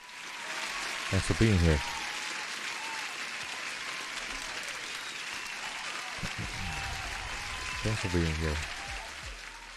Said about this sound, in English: Deserve an applause as well.